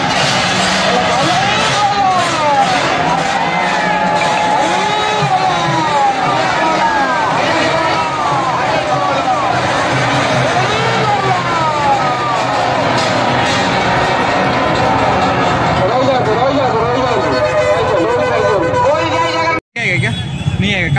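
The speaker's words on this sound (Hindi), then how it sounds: "भीड़ देख सकते हो" Dense crowd hubbub at the Puri Rath Yatra, many overlapping voices in a constant babble with traffic noise mixed in, steady and loud throughout, with a brief dropout near the end.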